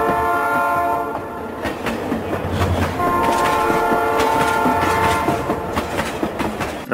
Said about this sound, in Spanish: ¿Cuánta nostalgia deben sentir las personas que tuvieron la posibilidad de ver u ocupar el tren El Quino al escuchar este inconfundible sonido?